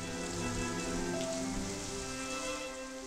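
Steady rain pouring down after the sky opens, a constant dense hiss of drops on surfaces, faint and even with no voices.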